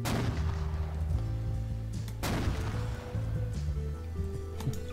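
A flak shotgun fired in the video game Garry's Mod, two heavy booming shots about two seconds apart followed by lighter mechanical clicks, with a steady hum underneath.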